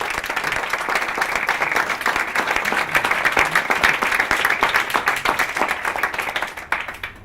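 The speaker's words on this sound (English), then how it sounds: "deserves a round of applause" Sustained audience applause at a presentation on an innovation ecosystem diagnostic, many hands clapping steadily and fairly loud for about seven seconds, fading slightly at the end.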